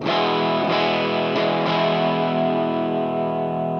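A heavily overdriven Yamaha Revstar electric guitar chord rings out loud and sustained, with a few picked notes at the start, no voices.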